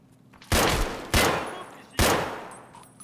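Gunfire in the video game Escape from Tarkov, three sharp, loud shots or short bursts roughly a second apart, each ringing out and decaying, with no talk over them.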